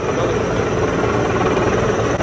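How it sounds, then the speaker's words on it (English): A Mississippi National Guard Sky Crane helicopter flies overhead, producing a steady, loud, low engine and rotor drone that holds constant without a break. "the Mississippi National Guard led its Sky Crane helicopter"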